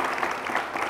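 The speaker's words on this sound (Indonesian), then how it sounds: "Tepuk tangan dulu dong." Studio audience applause breaks out on a television talk show set, a steady wash of clapping hands that stays loud and even for the whole second without any voices on top.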